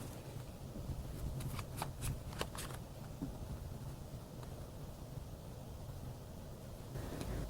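Tarot cards shuffled during a card reading, a few brief papery riffles early on against a steady low background hiss, fairly faint with no talking.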